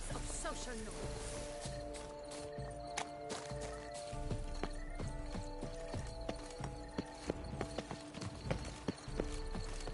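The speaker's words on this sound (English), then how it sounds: "Be better off on horseback." Horse hooves clip-clop steadily through a ride in The Witcher 3: Blood and Wine, a busy, continuous rhythm beneath game music and occasional spoken lines.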